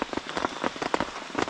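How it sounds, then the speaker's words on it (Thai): Light rain falls steadily at a forest campsite, with soft dense patter and small drops tapping close by on a surface, continuous and even, with no voices. "นอนฟังเสียงฝนเบาๆๆอย่างนี้นะครับ"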